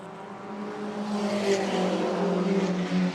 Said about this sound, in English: He's pulling into the lane, back end of the car wreathed in smoke